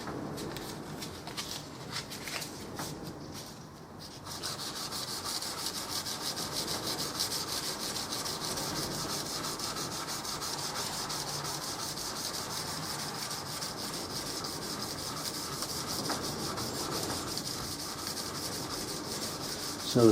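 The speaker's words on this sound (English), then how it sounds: "rubbing on the 600" A wood finish being hand-rubbed with 600-grit emery paper, a steady close scratchy rasp that continues for about twenty seconds after a brief pause near the start, with no talking.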